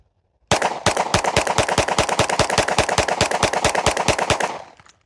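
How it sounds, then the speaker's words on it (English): Rapid bursts of gunfire from test-firing ammunition made for long-term storage, roughly two dozen sharp, loud, closely spaced shots in a fast steady rhythm over about four seconds, then silence. "So go ahead and just shoot some rounds out here."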